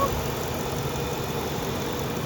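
A 1999 Lincoln Continental idles in park with its transmission warmed up, a low steady engine hum with faint broadband hiss and no voices.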